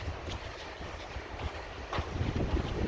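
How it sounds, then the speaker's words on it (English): Wind gusts across an open mountain trail near a meadow, a rough, blustery rush buffeting the microphone and growing stronger toward the end, with no voices. "And the wind is back."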